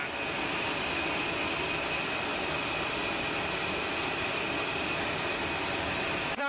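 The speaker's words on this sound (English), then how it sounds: "The Saudi Arabian F-15s taxiing out." Saudi Arabian F-15 fighter jets taxiing out make a steady, loud, continuous jet engine roar and whine that holds at an even level throughout.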